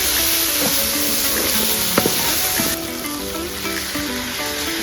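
Coriander, mint and curry leaves fry in a pan for Telangana-style bagara rice and chicken curry, giving a loud, steady, hissing sizzle with a few sharp pops and a slight drop in intensity partway through.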